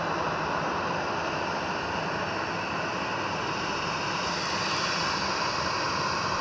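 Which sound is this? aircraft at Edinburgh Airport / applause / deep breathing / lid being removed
aircraft at Edinburgh Airport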